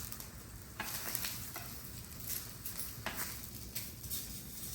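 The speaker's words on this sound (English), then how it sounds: "as those are searing off" Artichokes searing in a hot pan give a steady, close sizzle and crackle, with brighter bursts as they are flipped and shifted around; no voices.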